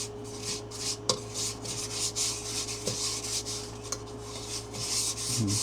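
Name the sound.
rubbing sanding paste on wood by hand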